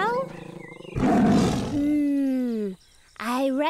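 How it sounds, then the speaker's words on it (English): An animated Sumatran tiger gives a loud, close roar: a rough, noisy blast followed by a long falling growl, then a second roar starting after a short pause. "That is a Sumatran tiger."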